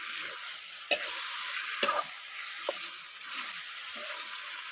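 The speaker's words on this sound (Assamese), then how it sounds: "ভালদৰে পূৰা লৰাই দিছোঁ যাতে তেল মছলাখিনি ভালদৰে গোটেইখিনি মাংসখিনিত সোমাই যায়" Goat meat frying in oil with spices in a pan, a constant loud sizzle broken by a few sharp clanks of the stirring spoon.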